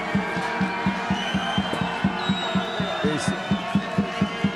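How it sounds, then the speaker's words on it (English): Spanish crowd noise at an under-21 canoe-kayak polo world championship match in Saint Omer, France, loud and steady, with a rhythmic pulse of regular thumps running through it. "It's a lot of noise from the crowd."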